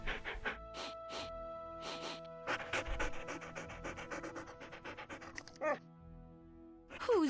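Ghost dogs in a Nancy Drew game pant in quick rhythmic bursts at close range, pausing between runs, with a short whimpering whine near the end.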